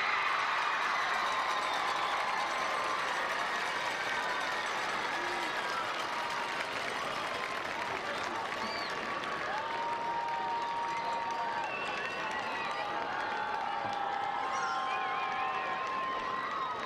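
Crowd at a Richland High School homecoming ceremony applauding the homecoming queen and court, sustained distant clapping and cheering that fills the whole stretch, with faint whistles and voices mixed in.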